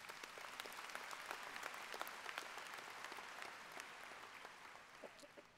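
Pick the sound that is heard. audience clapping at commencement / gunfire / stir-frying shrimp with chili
audience clapping at commencement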